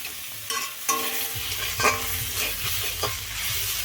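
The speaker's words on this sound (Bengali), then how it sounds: "লাল শাক ভাজা হচ্ছে" Red amaranth greens being stir-fried in a pan: close scraping and clattering of a spatula over a bright, steady sizzle, with irregular stirring strokes throughout.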